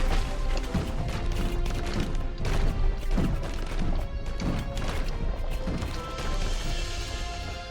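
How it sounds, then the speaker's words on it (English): Heavy booming cannon impacts and crashes from a Nomad Cities video game battle smashing into a city, repeated irregularly over a dense, rumbling background with no clear talk. "oh, you can hear them. They're actually cannons."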